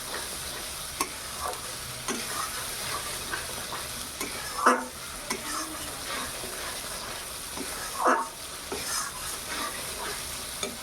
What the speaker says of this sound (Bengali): ভালো করে পাকাবো। যতক্ষণ না এর থেকে তেল ছেড়ে দেবে ততক্ষণ আমি পাকাতে থাকবো।